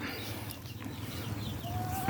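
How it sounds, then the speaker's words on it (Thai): A golden rooster clucks in short, fairly faint bursts over steady outdoor background noise, with no talking. "ตัวนี้เป็นไก่ให้คุณสำหรับผมนะครับ"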